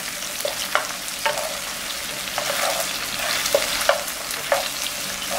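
Scallion, ginger and garlic stir-fried with spicy chili bean paste in a hot pan, a steady close sizzle and crackle with scattered clicks and scrapes of a spatula stirring, no talking.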